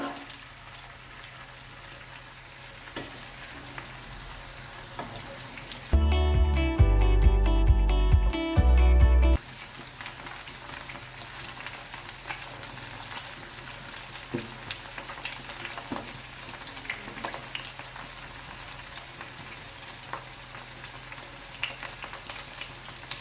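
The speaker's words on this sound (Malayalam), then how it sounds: "ഇത് ഞാൻ ഷാലോ ഫ്രൈ ചെയ്താണ് എടുക്കുന്നത്, ഡീപ്പ് ഫ്രൈ അല്ല." Paneer pieces shallow frying in hot oil in a pan give a steady, close crackling sizzle, broken midway by a brief loud tonal burst before the frying noise resumes.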